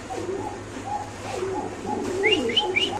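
Indian Nazra Kaldum pigeons coo in soft, repeated low phrases close by, with a few brief higher chirps from another bird toward the end.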